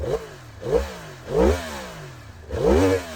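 A Yamaha MT-10 SP cross-plane motorcycle engine revs in four quick surges, each rising and falling, with a rough, uneven exhaust note close by.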